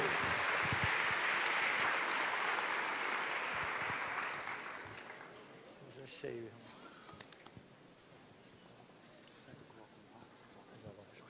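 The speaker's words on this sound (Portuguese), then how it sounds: "Uma salva de palmas para esse homem de Deus aí." Dense church audience applause fills the first few seconds, then fades out as a single voice begins speaking.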